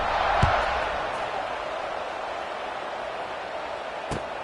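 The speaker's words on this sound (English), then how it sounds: "this crowd is buzzing after that last score" Football stadium crowd buzzing after a touchdown, a broad distant murmur filling the background with a couple of sharp thuds, under faint announcer talk.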